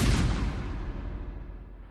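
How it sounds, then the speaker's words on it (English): Loud battlefield gunfire from the 16 April 1746 battle, a dense rolling roar of guns that booms at the start and slowly fades, alone with no voices. "when you hear that gunfire"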